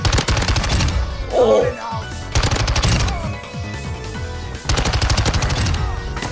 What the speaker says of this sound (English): Whoever's trying to hit me over there is missing every shot.